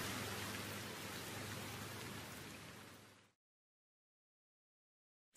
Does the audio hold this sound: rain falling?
yes